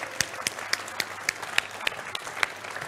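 Scattered, sparse handclaps from a small group at an awards ceremony, sharp individual claps spread irregularly across the moment, moderately close with a quiet room behind.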